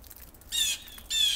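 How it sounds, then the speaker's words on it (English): A small bird gives two loud, shrill squawking calls close by outdoors in the snow in Lubbock, Texas, each about a quarter second long, with quiet gaps between. "That little bird, he can have the last word."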